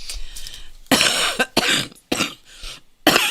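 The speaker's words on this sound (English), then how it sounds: "sorry about the coughing" Several harsh, wet coughs burst out close to the microphone in quick succession, separated by short pauses, after a quieter stretch at the start.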